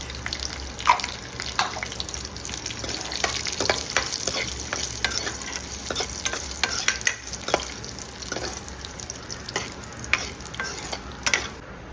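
Cashews and raisins fry in ghee for a sweet cane-juice pongal, a steady close sizzle broken by frequent clicks and scrapes of a spoon stirring through the pan, with no talking.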